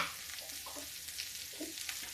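Ridge gourd peel sizzling and frying in a pan while being stirred, a steady close hiss with occasional scraping of the spoon against the pan.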